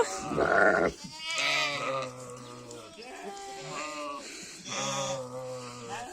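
Several goats bleat loudly and close by on a farm, their wavering cries overlapping in repeated bursts, with sheep among the livestock.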